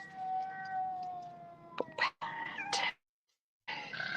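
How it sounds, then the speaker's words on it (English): A cat cries in long, drawn-out meows and caterwauls that waver in pitch, a few loud wails separated by short pauses and one brief silence, heard fairly close and alone. "I hear your cat."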